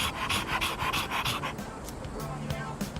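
A dog in Persona 3 Reload pants in quick, rhythmic breaths, loud and close for the first second and a half, then softer, more scattered huffs under faint background game sounds.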